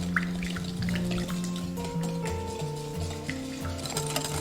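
Milk, white sugar and a pinch of salt stirred together in a bowl for a homemade summer drink, a steady swirling and scraping with soft liquid sloshing and light clinks, close and continuous, with faint tonal background sounds underneath.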